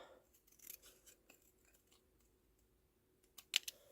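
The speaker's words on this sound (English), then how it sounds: "So I'm just going to cut one of the mountain ranges off." Scissors snip through card to cut out a mountain range shape, a series of soft, close crisp cuts ending in a few sharper snips, quiet, with no talking.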